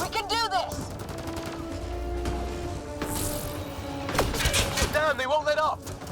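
Heavy gunfire rattles through a Mass Effect: Andromeda firefight, bursts and single cracks layered with shouting voices, effects and explosive thumps in a busy, loud mix.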